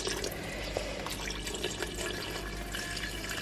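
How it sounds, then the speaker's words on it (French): Water runs steadily into a cooking pot of potatoes and Brussels sprouts, a continuous close splashing and trickling stream of even loudness without pauses. "là je vais rajouter l'eau pour que ça cuise"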